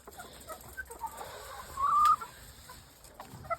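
RTL chickens on a small backyard poultry farm cluck and murmur steadily at close range, with one louder drawn-out squawk rising above the flock midway.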